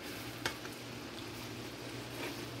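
Igado, a Filipino pork and liver dish, gets stirred in a pan with a faint sizzle underneath and a few soft clinks and scrapes of the spoon, quiet and close.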